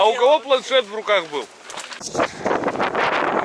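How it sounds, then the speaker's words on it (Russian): Strong wind gusts during a May float-fishing competition, hard enough to lift tents, rush as a broad, steady roar after a short stretch of speech. "Как вы поняли, поднялся сильнейший ветер."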